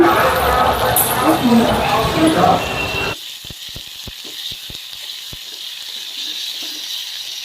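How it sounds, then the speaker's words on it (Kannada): A single tomato with curry leaves frying in a pan gives a loud sizzle that drops off abruptly after a few seconds. Quieter clicks and taps from the pan follow. "ಇವಾಗ ಟೊಮೊಟೊ ಹಾಕೋತಿದ್ದೀನಿ ಒಂದೇ ಒಂದು ಟೊಮೊಟೊ ಹಾಕಿದ್ದೀನಿ ನಾನು ಜಾಸ್ತಿ ಹಾಕಿಲ್ಲ ಇವಾಗ ಇದು ಸ್ವಲ್ಪ ಫ್ರೈ ಆಗಲಿ"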